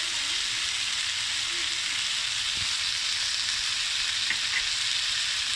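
Tomatoes and spices such as chili powder and coriander sizzle steadily in a pan, a soft, even frying hiss with no voices.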